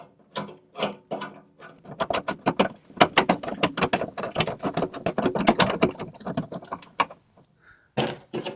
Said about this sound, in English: we have to spin the turnbuckle out until our holes line up back here